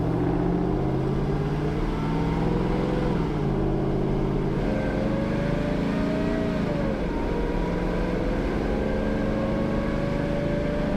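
A high-mileage, long-neglected Corvair-based car's engine idles and runs steadily as it warms up, a continuous close rumble with slight shifts in pitch.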